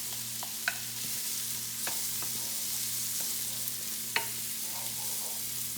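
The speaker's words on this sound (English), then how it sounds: "and saute the onions." Onions sautéing in melted butter, a steady soft sizzle with a few light utensil taps and scrapes, close and fairly quiet over a low hum, no speech.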